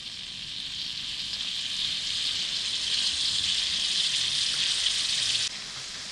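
Water for a street-style Peshawari chicken karahi sizzling and bubbling steadily in the pan over a gas flame, a loud, close, continuous hiss that holds for about five seconds before dropping slightly, with no talking.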